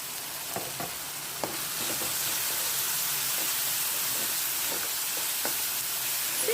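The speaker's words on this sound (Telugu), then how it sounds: "ఆనియన్స్ బాగా వేగేంత వరకు వేయించుకుందాం అండి" Onions frying in a pan with salt and turmeric, giving a soft, continuous sizzle and hiss with a few faint pops and stirring ticks, fairly quiet and without speech.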